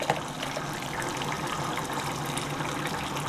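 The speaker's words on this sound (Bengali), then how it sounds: "একটু ঘি দিচ্ছি এর মধ্যে" Ghee poured into a pan while cooking mulor ghonto with fried boras, a soft steady trickle and sizzle lasting a few seconds, close and even, with no talking.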